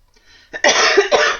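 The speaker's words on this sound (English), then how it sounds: "Sorry, guys, I can't stop coughing for some reason." A brief burst of harsh coughing, two or three rough coughs in quick succession, close and loud.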